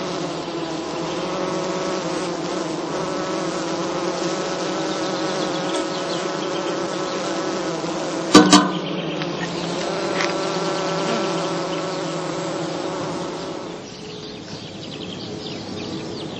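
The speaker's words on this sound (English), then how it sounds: "The bees are busy feeding their brood." Dense, steady buzzing of many honeybees around heather skeps on heathland, close by, a continuous droning hum with a brief sharp knock partway through and a slight dip near the end.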